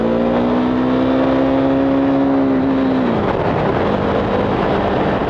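KTM Duke 390 motorcycle engine on the race track at Mid-Ohio during a vintage racing event, heard loud and close as a sustained high drone that holds steady and then drops in pitch as the revs fall.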